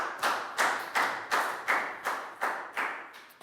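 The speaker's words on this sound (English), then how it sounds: "High five and a big round of applause for Lakgao, please, guys." A classroom of Year 4 pupils gives a round of applause during a maths lesson, heard as about eight evenly spaced, moderately loud sharp claps that sound like unison clapping, with no talking over them.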